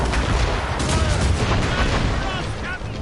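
Cannon fire during a naval battle in Assassin's Creed Rogue, a dense, continuous barrage of booming blasts and crackling impacts, loud and close, with shouting voices mixed into the chaos.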